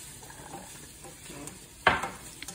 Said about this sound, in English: Give it a good stir. Make sure all that garlic get all over it.